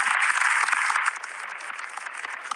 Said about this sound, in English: Oh, you can clap.